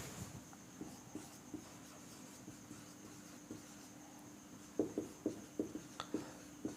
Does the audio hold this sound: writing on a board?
yes